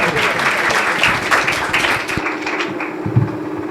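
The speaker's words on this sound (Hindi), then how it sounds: "जोरदार तालियों में खुदा के बंदा को वेलकम करें।" A church congregation at Sunday worship bursts into loud, dense applause that thins out after about two seconds into scattered claps.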